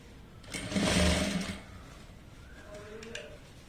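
A sewing machine runs one short stitching burst of about a second, close and moderately loud, along a folded quarter-inch hem of a puff-sleeve frock. Faint handling sounds follow, and there is no talk.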